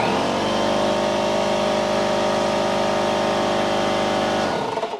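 An air compressor runs on an Anker SOLIX F3800 portable power station, a steady loud motor drone with buzzing harmonics that holds for nearly five seconds, then starts winding down at the end.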